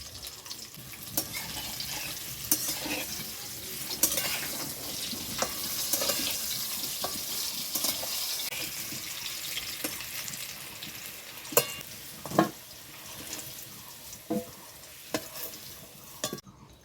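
Potatoes frying in hot oil with salt and a little turmeric, stirred in the pan; a steady sizzle runs throughout with repeated sharp scraping and stirring clicks, fairly close, with no talking.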